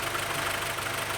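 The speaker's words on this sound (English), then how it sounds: "Like this engine is just so smooth." A Honda Integra DC2, restored after being abandoned, runs with a smooth, even engine note, a brief steady hum with a faint regular pulse.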